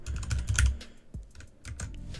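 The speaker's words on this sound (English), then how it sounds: "you want to type in, so you just follow what I'm typing in here" Steady typing on a computer keyboard, a close, continuous run of quick key clicks with brief pauses and no talking.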